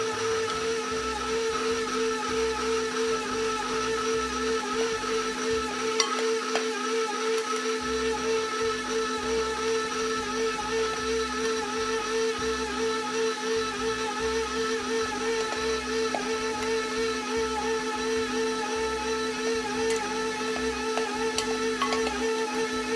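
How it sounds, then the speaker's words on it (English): An electric mixer runs steadily on Polish butter cookie dough after the flour, sugar, baking soda and baking powder go in, giving a continuous close motor whine with a low churning rumble throughout, no talking. "I'm going to turn on the mixer again to make sure that all the ingredients"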